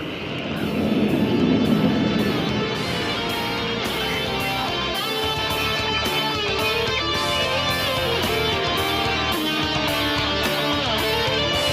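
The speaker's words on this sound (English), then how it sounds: "These glossy bright aircraft that you just saw in the skies are kept ready to fly by our maintenance team, led by Wing Commander Rana" Surya Kiran aerobatic team jets of the Indian Air Force flying overhead at the Aero India air show in Bengaluru, a steady, loud jet roar that swells in the first seconds and holds continuously over a busy crowd background.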